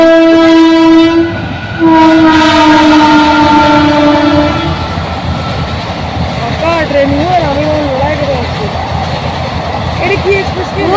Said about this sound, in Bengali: এটা একটা কোনো ট্রেন